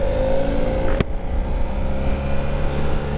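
A 2009 BMW 800GS motorcycle drones steadily as it accelerates onto the interstate, a continuous close engine hum mixed with wind rush and one brief sharp tick.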